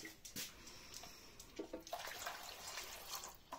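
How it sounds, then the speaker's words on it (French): Water poured into a dog's bowl, a faint splashing trickle with uneven bursts of flow, close by and quiet. "Je te mets de l'eau."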